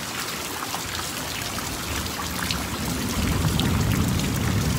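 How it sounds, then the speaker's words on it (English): Steady rain falls on a stormy spring day with rolling thunder under a tornado watch, a dense continuous patter of drops and trickling water that swells slightly louder toward the end, with no voices. "the rain is coming down."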